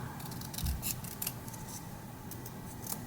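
Scissors snip through sticky-backed pattern material while a pinecone gnome ornament pattern is trimmed, giving a few quiet, crisp cuts and light clicks scattered over a soft, low background.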